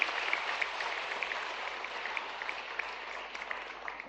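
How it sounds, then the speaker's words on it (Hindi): Steady, dense applause from a large audience at a Bhopal ceremony honouring selected UPSC candidates, clapping for the higher education department; continuous and even throughout with no talk over it. "उच्च शिक्षा विभाग के लिए जोरदार ताली बजाओ"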